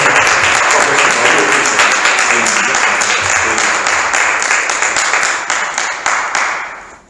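A large church congregation applauds loudly and continuously, dense clapping filling the room before tapering off at the end.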